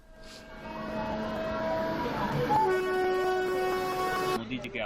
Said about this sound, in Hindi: प्रधानमंत्री ने वर्चुअल तरीके से देवघर डिब्रूगढ़ ट्रेन को भी मोहनपुर से रवाना किया।